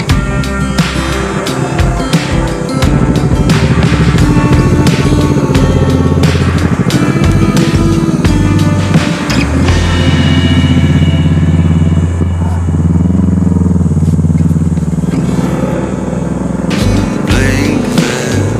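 A motorcycle rides over a rough, unpaved road, its engine droning loud and close throughout with bumps and clatter from the uneven surface.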